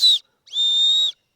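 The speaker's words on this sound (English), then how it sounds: "It's got a little emergency whistle on it, though I'm not sure it's a really great whistle." A small emergency whistle hanging from a fire kit lanyard is blown twice, loud and close: a short shrill blast, a brief pause, then a longer sustained tone.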